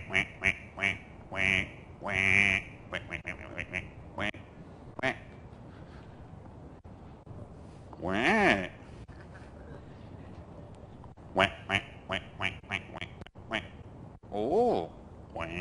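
A voice imitates the quacking of a dabbling duck in several short nasal bursts, between stretches of speech in a talk at an indoor event.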